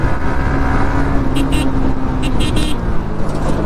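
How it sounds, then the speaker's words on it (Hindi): Road traffic starts moving again on a busy Himachal road, with a loud steady rumble of engines, close vehicle noise and several short honks breaking through. "हो गया ट्रैफिक स्टार्ट।"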